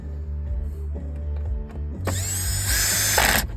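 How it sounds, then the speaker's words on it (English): A Porter Cable cordless drill used as a screwdriver drives a screw during a Jeep Patriot radio repair, starting with faint clicks and then whirring in a loud burst of about a second and a half, close by. "I got this Porter cable drill, and I use it as my driver"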